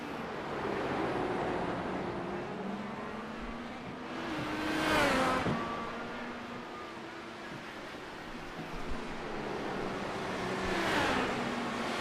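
Race cars at the Long Beach Grand Prix street circuit pass at a distance, two rising and falling engine sweeps heard a few seconds apart over a steady roar of crowd and ambient noise.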